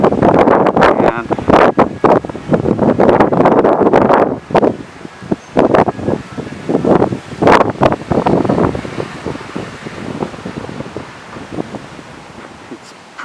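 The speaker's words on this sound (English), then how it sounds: "pretty windy today, so I'm stepped out of the wind" Strong gusty wind in Bar Harbor, Maine buffets the microphone in loud roaring bursts that ease off toward the end, with rustling and a voice partly buried beneath.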